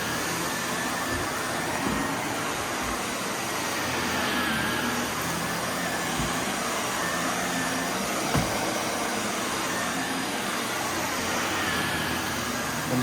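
A vacuum cleaner runs continuously and loudly close by while pulling up heavy dirt, with occasional bumps and knocks against the floor.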